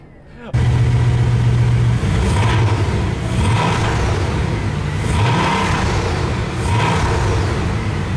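A broken Bugatti Veyron runs loudly and steadily close by after being shifted into gear, a dense engine roar with a low tonal hum early on and slow, rising-and-falling swells.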